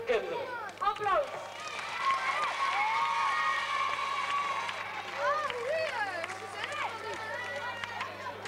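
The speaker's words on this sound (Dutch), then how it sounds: "Applaus!" At a 1986 primary school festival, the audience claps and cheers for a class performance: dense, lively applause mixed with excited children's voices and shouts, while people talk over it.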